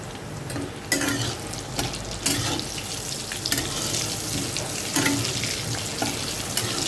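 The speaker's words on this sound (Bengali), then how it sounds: "আমি আলুটাকে ভেজে নেব দিয়ে দেব নুন অল্প হলুদ" Potatoes fry in hot oil with salt and a little turmeric, a dense continuous sizzle broken by repeated scraping strokes of a spatula at a regular, unhurried pace, heard close and alone.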